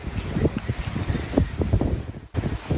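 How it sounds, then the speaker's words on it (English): Strong outdoor wind buffeting the microphone in rough, continuous gusts with rustling, loud and close, briefly dropping out near the end. "So this is how windy it is."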